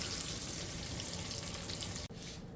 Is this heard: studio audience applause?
no